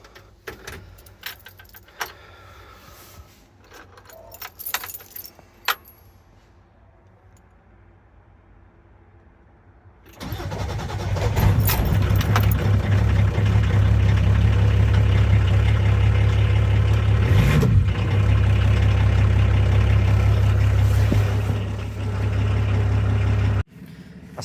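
Keys jangle and clicks sound before a Volkswagen LT van engine is started after a starter motor repair. The engine catches and settles into a loud, steady idle that rumbles close by for over ten seconds.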